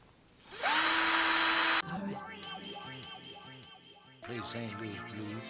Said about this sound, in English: we'll go ahead and drill that out.